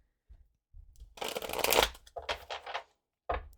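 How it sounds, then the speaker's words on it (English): A tarot card deck being shuffled close up in a quiet room: a few soft taps, then a dense riffling burst, followed by several short snaps and a final brief flutter. "one more deck I'm going to shuffle really quick"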